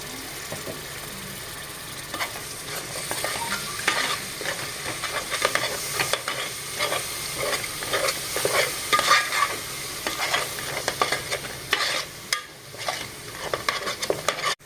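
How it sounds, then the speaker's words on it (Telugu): Curry gravy with fresh raw coconut paste is stirred in a pan over the heat, giving a steady sizzle with repeated scraping strokes throughout, close and fairly loud, with no voices. "పచ్చి కొబ్బరి పేస్ట్ అండి అది కూడా వేసుకుందాం"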